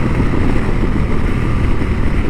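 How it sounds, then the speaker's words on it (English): A Harley-Davidson Pan America motorcycle engine runs at a steady drone while riding, its low rumble mixed with rushing wind noise, continuous and fairly loud with no speech. "I am having fun riding this Harley Pan America"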